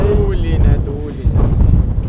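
Wind buffeting a microphone outdoors on a windy day, a steady low rumbling roar filling the clip with a brief lull midway, while a person's voice talks faintly underneath.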